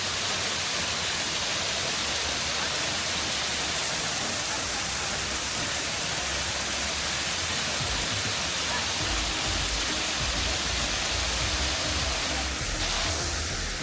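A waterfall at a tourist site near Chiang Mai, Thailand, gives a loud, steady, broadband rush of falling water with no break.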